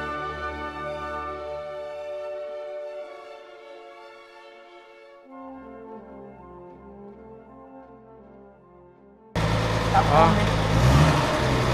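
A freshly rebuilt Chevrolet Opala/Caravan six-cylinder engine idles with a steady tonal drone that shifts pitch midway, then turns into a louder, rougher roar near the end.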